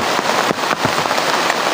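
Rain falls steadily, a dense close hiss with scattered sharper drops striking a surface, loud and continuous with no voices.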